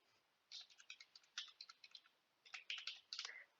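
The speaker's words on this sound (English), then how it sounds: "I will type volunteering as well" Quick bursts of typing on a computer keyboard, close and fairly quiet, in two short runs of crisp clicks with a pause between them, in a quiet room with no voices.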